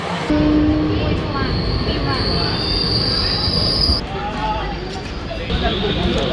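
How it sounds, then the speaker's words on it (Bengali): The Aranyak Express rolls into Santragachi station, a loud steady rumble of wheels on rails with high metallic squealing of wheels on the track, while people talk nearby. "কিছুক্ষণ পরেই এই সাঁতরাগাছি স্টেশনে আসবে আমাদের আরণ্যক এক্সপ্রেস"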